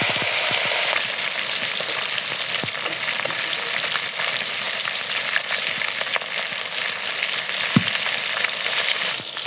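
Fish sizzles in a pan of hot oil with a dense, continuous crackle and occasional louder pops, steady and close throughout.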